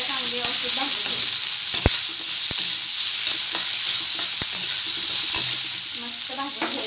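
Capsicum (bell pepper) frying in a pan, a steady close hiss of sizzling oil with a few sharp spatula scrapes and clicks against the pan.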